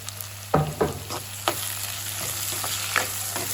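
Onions sautéing in a pan, a low continuous sizzle punctuated by several sharp spatula scrapes and taps at irregular intervals, close and without speech.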